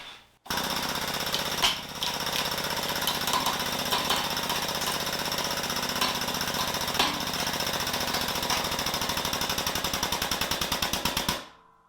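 A Harbor Freight 20-ton hydraulic press running on shop air crushes a headlight switch, giving a loud, steady mechanical hammering clatter for about ten seconds that breaks into rapid even pulses near the end before stopping abruptly.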